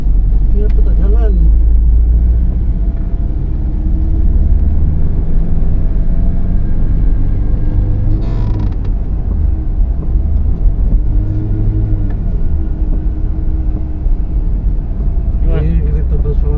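A big car's engine runs with a heavy, steady low rumble close by, continuous throughout, while people talk over it now and then.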